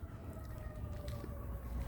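Emergency vehicle sirens in Ontario, a faint distant wail with a steady held tone heard through low background rumble.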